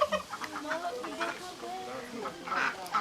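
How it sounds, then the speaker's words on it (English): Ducks being fed manjack make a run of quick, soft quacks and clucking calls that sound close by, with faint talking in the background. "These ducks love the manjack."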